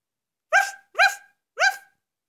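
A dog barks three times in a steady rhythm, each bark sharp and close, with short pauses between and no other sound.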